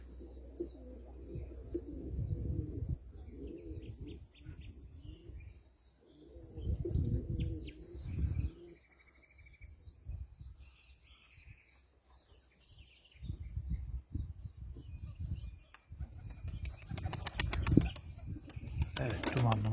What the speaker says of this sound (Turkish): kuşlarımız hala uçuyor